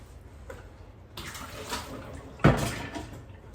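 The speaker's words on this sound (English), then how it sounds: "We'll fill it up with water as high as it goes." Tap water runs into a cooking pot of beans, a soft steady pour that swells louder with a splashy burst near the end, close and quiet with no talk.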